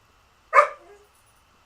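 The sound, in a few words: dog barking, wanting to be let out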